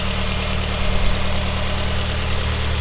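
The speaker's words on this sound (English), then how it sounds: "Engine is running smooth." A car engine idling smoothly after a valve cover gasket, intake manifold gasket and spark plug tune-up, a steady low hum with an even rumble throughout, close and fairly loud, no voices.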